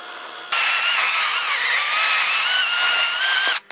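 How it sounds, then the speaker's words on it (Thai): A battery chainsaw with a freshly sharpened chain whines steadily at high pitch as it cuts through wood, running continuously for about three seconds before cutting off abruptly. "เดี๋ยวผมจะมาทดลองตัดไม้ ดูนะครับ หลังจากที่รับคมแล้วนะครับ"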